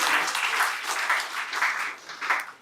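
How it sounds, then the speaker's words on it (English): Conference audience applauding in a continuous wash of clapping that swells and eases in waves, fairly close and unaccompanied by speech. "Another round of applause for Emmanuel."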